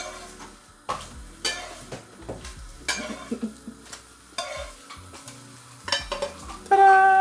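An omelette frying in a pan, heard as a soft sizzle with irregular scraping, stirring and clattering of a utensil against the pan, close by and without talk.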